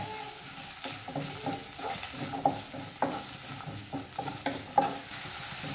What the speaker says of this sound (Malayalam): ഈ ഉള്ളിയിലേക്ക് ആവശ്യത്തിനുള്ള ഉപ്പും കൂടി ഇപ്പം ചേർക്കാം. ഇനി ഇതെല്ലാം കൂടി നമുക്ക് നന്നായിട്ടൊന്ന് മിക്സ് ചെയ്തെടുക്കാം.